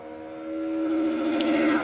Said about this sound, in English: He's on the rev limiter, wasn't he, coming over the finish line there?